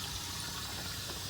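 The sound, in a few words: water flowing out of pond chamber pipe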